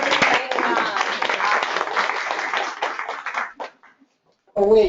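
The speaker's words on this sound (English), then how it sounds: "Let's give them a big round of applause" An audience at a Girl Scouts San Diego assembly claps loudly for about three seconds, then the applause thins and fades to silence before a voice starts speaking.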